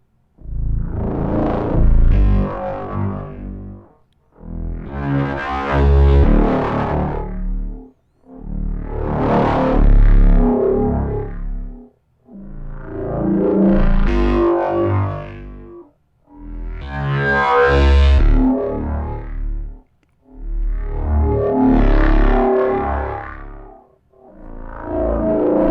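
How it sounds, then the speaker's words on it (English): Electric guitar through a Metamyther effects pedal set to a wide stereo effect, phrases in repeated bursts of about four seconds with short gaps, loud, distorted and modulated, no talking. "it's kind of like this stereo effect that's happening."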